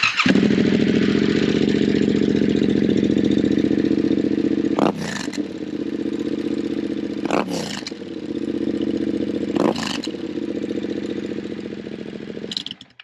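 Loud Yamaha T7 motorcycle with a Camel ADV high exhaust and dB killer idling roughly, then revved sharply three times with crackling bursts of exhaust between steady idle.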